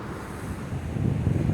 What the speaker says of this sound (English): especially foamy from all the crashing waves and delivering quite the show with lots of huge splashes